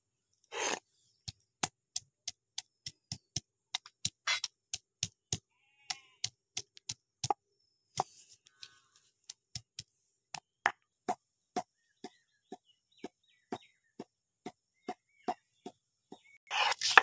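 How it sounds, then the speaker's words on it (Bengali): Cardamom, cloves, cinnamon, peppercorns and ginger ground together for Kanika bhog give a long series of sharp, close knocks at a fairly steady rhythm, with no talk. "আমি এলাচ, লবঙ্গ, দারুচিনি, গোলমরিচ আর আদা একসঙ্গে বেটে নেব।"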